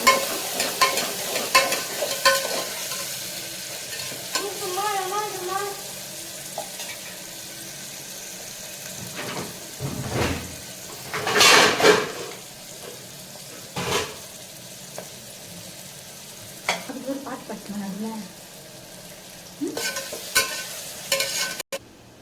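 Onions sizzle and fry in hot oil, with intermittent stirring and scraping in the pan, fairly close and steady throughout.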